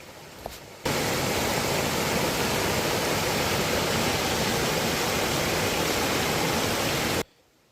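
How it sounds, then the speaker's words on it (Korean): Mountain valley stream below a house near Jirisan, clear water rushing in a steady, loud, broadband wash heard up close for several seconds, starting and stopping abruptly. "여기 집으로 올라가기 바로 밑에 이런 근사한 계곡이 있는데 물소리 한번 듣고 가겠습니다"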